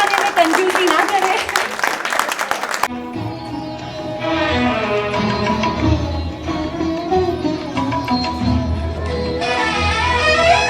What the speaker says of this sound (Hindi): तालियां बजाने में कंजूसी ना करें।